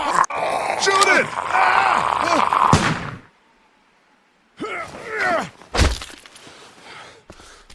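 Gunfire rings out in The Walking Dead video game, with a couple of sharp, loud shots cracking amid tense voices shouting, a pause of near silence, then more speech and one heavy booming shot.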